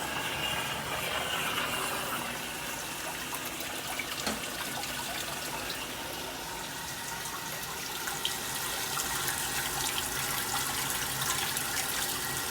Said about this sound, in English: You guys can kind of watch the machine fill